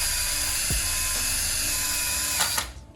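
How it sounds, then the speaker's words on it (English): A power wire brush spins against the wheel hub of a BMW E46 330Ci to clear debris, a steady high whirring grind close up, with a brief knock early on before the tool winds down. "First thing I'm doing is just taking a wire brush"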